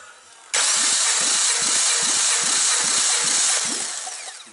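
A 2011 Suzuki Swift's 1.2-litre K12B petrol engine cranks during a compression test: loud, rapid, evenly pulsing starter churning begins abruptly and runs for about four seconds without a voice.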